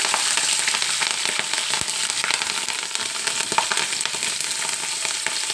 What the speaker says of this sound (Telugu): ఇప్పుడు మనం పచ్చిమిరపకాయలు వేసుకోవచ్చు